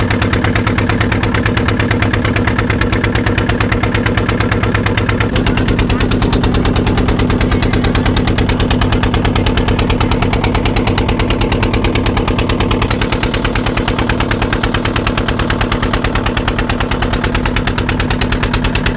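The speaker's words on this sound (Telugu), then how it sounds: "పంట ఇది ఇప్పుడు స్టార్ట్ చేస్తున్నాడు ఇంజన్, డీజిల్ ఇంజన్" The diesel engine of a river ferry on the Godavari runs steadily at idle, a loud, close, rapid chugging throb that holds through the whole stretch, with no one speaking over it.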